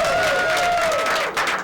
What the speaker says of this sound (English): let's have a nice round of applause for Valenzi